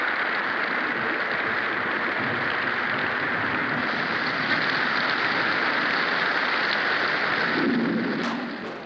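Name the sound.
rain falling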